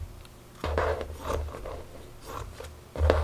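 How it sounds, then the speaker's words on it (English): Scissors cut a piece of leftover shirt fabric in a few close, crisp snipping and rasping strokes, each separated by short pauses. "I'm going to cut a chunk off of the waist."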